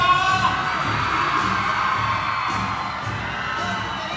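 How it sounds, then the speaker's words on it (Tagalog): A loud crowd cheering and clapping at a barangay basketball finals game, with shouts, whoops and children's voices blending into a dense, roaring mass of noise that holds steady throughout. "Paninig naman po ng hiyawan at palakpakan ng barangay Masaya!"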